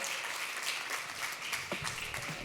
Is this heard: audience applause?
yes